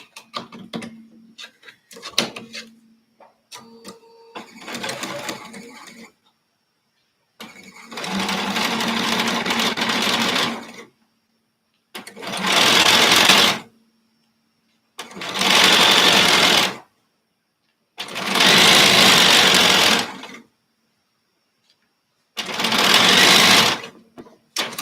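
A sewing machine stitches in several sustained bursts separated by pauses, each run a steady, close mechanical whir, with brief clicks and handling noises before the sewing starts.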